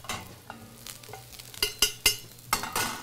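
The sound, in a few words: garlic clove and thyme sizzling in oil with parsnips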